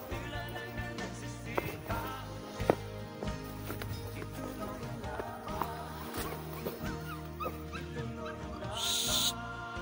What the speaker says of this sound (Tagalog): Ayan, tuta po namin sumasama umiyak.